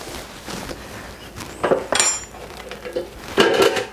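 Hot metal bread loaf pans clank and scrape as they are handled after baking, with a few bright clinks and knocks in irregular bursts, nearby.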